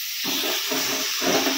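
Chopped tomato and a splash of water hit hot masala in a pan, setting off a loud, close, continuous sizzling hiss that swells in surges.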